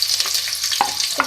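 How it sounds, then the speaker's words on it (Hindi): Two medium onions sizzle and fry in hot oil in a pan, a steady close crackle with a couple of soft stirring scrapes. "अब सबसे पहले मैं ऑयल में 2 मीडियम साइज़ के प्याज ऐड करूँगी,"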